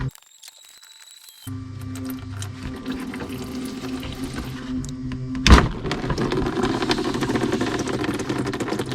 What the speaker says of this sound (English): now we're going to drain our coolant